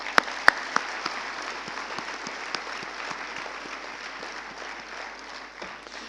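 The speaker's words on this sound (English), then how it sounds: "Let's give them a hand." An audience at a medical college convocation ceremony applauds its teachers and administrators with steady, moderately distant clapping that holds evenly, and a few sharp, louder claps stand out near the start.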